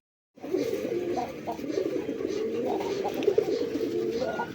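Deep, throaty cooing from pigeons at a pigeon farm, steady overlapping coos running throughout at close range, fairly loud with no talking.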